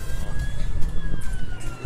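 Wailing siren of a truck in the online game APB, a steady rising-and-falling electronic tone over engine rumble and street noise, close and fairly loud, with no talk over it.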